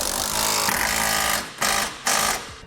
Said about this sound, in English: now we can tighten all of our hardware using a 19mm socket